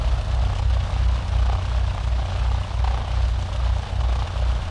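A light aircraft rolls for a short-field takeoff, its engine and propeller giving a steady, loud, close drone with a pulsing low rumble throughout and no voices.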